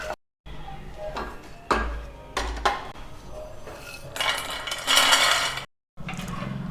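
Roasted fox nuts (makhana) tipped from a pan onto a side plate: clattering metal scrapes and rattling bursts in several uneven clusters, close and fairly loud with short silent gaps.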